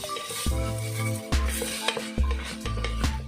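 Onions sautéed with a pinch of salt in a pan for vegetable biryani, a spoon scraping and clanking repeatedly against the metal over a steady low frying sizzle, close and alone.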